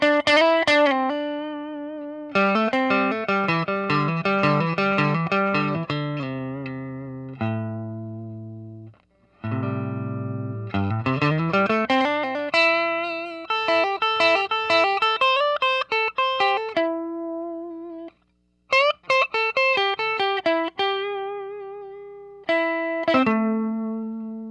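Electric guitar playing single-note melodic lines through a Monoprice Stage Right tube amp, slightly overdriven tone, notes ringing and sustaining in phrases with brief pauses, loud and close.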